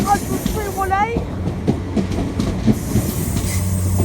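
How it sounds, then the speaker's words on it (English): A Great Western Railway Class 800 train passes through Newport station on the South Wales Main Line, with a steady rumble and wheel clatter, a short rising and falling whine, and nearby voices under it. "1762 by Western Railway service to Swansea from London Paddington."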